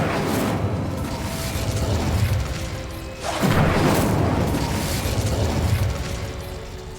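In the Hogwarts Legacy video game an Incendio fire spell is cast, giving a loud, full whooshing blast with a deep rumbling burst roughly halfway through, set against continuous dense game ambience.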